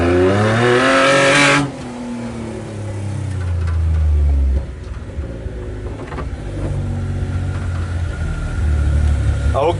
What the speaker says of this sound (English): Just do a lap around and see where we're going.